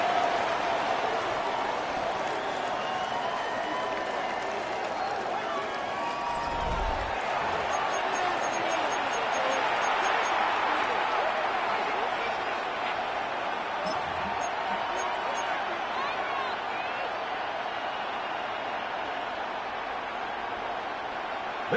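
A football game crowd involving the Steelers roars steadily through a long stretch, a thick, continuous wash of voices with a couple of dull thuds underneath.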